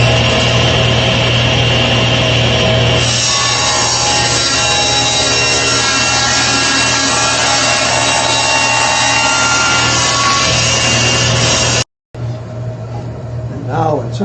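A saw cuts through a wooden rocking chair part being renovated, producing a loud, continuous close whirring cut for about twelve seconds. It breaks off briefly, then resumes more quietly.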